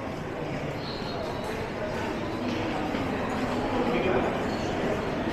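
Riding an LRT light rail train in Tokyo: a steady, dense rumble of wheels and car noise fills the whole stretch, close and continuous, with faint voices mixed in.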